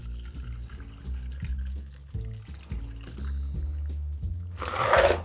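A shaken pineapple Blue Hawaiian cocktail pours from a shaker into a glass, a close liquid stream splashing steadily for several seconds and ending in a brief louder gush.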